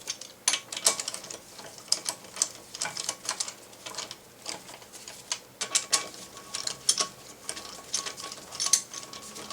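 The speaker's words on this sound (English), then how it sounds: "And then I'll torque them down with my breaker bar." A breaker bar ratchets lug nuts on a front wheel of a 1999-2001 Volvo S60, a close series of sharp metallic clicks in uneven bursts with short pauses between them.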